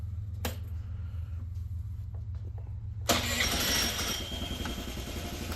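A Honda Elite 80 scooter cold-starts: a brief starter whir, then the engine catches abruptly and settles into a loud, steady buzzing idle close by, no talking.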